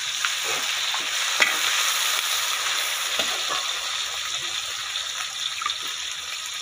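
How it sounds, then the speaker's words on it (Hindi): Ginger garlic paste fries and sizzles in a pot for methi matar pulao, a steady close hiss broken by light stirring scrapes, with no voices. "अदरक और लहसुन का पेस्ट डाल दें।"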